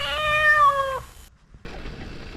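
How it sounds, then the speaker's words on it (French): A cat meows once, close and clear, a single drawn-out call lasting about a second on a mountain bike trail, followed by quiet rustling outdoor background. "Encore un chat."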